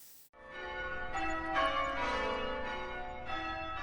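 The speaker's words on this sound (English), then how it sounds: "the bells ring, the light returns" Church bells ring out in a rich, sustained chime with layered overtones, swelling after a brief silent start and continuing steadily, moderately loud, with no talk.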